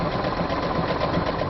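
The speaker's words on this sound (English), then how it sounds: "sat down at a sewing machine for the first time since junior high home ec" A sewing machine runs steadily, giving a fast, even mechanical whirr and clatter that holds at constant speed through the short stretch, close and alone with no voices.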